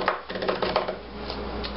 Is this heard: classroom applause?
no